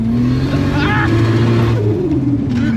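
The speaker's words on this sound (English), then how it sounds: "I can tell it's spinning the absolute piss out of the rear tyres" A Ford Granada fitted with a 2JZ Supra engine revs hard while spinning its rear tyres, a loud sustained engine drone under constant tyre noise, with a person talking over it.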